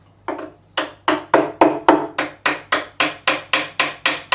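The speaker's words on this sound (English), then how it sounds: "I've got a fret hammer. It's a great woodworking hammer." A fret hammer taps out the dual truss rods of a 1964 Rickenbacker 330 guitar under renovation, about a dozen sharp, steady, evenly spaced wooden knocks, close and loud with no talking.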